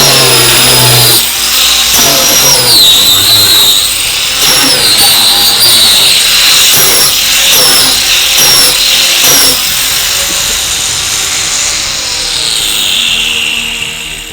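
An electric drill runs loud and close, its whining motor rising and falling in pitch through repeated bursts over a busy, noisy background.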